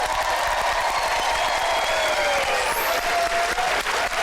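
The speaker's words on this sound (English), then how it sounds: "Give them a big round of applause." Studio audience at a magic game show breaking into sustained, dense applause with some cheering, loud and continuous throughout, with a faint musical tone gliding underneath.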